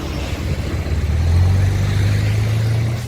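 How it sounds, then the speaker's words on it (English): A motorized four-wheeled sofa being driven, its engine droning steadily and rising in pitch as it speeds up, loud and close, with no talk. "this sofa with 4 wheels and a tray for snacks instead of a steering wheel is actually suitable for driving"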